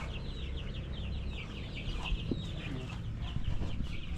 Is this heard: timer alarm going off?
no